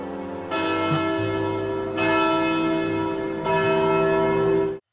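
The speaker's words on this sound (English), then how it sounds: "suddenly the bells begin to ring, and Terra rushes inside" Church bells ringing in the video game Kingdom Hearts Birth By Sleep: three loud, resonant bell strikes about 1.5 seconds apart, each ringing on and layering over the last before cutting off abruptly.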